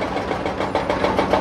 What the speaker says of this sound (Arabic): وهاد العمليه ديال الحفر